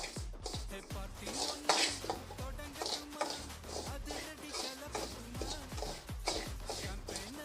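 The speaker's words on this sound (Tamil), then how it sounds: "நல்லா கைவிடாமல் வறுத்துக்கிட்டு இருக்கணும்" Varagu rice is stirred and roasted in a pan, making rhythmic, close scraping and clinking strokes about twice a second that repeat steadily with faint background noise.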